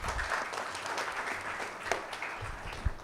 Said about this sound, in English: request you to applaud their effort by joining me